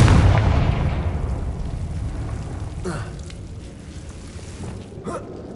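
A Confringo fire spell in Hogwarts Legacy bursts into a loud explosion that rumbles and decays into a long crackling tail, with a few small impacts scattered afterward.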